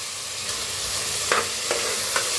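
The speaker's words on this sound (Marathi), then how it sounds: "मिक्स करून 1-2 मिनिट असं भाजून घेऊया, म्हणजे वाटाणे छान असं भाजलं जातील" Green peas with onions being stirred and roasted in a pan for aloo matar, a strong steady sizzle broken by several distinct scraping strokes of a spatula, with no talking.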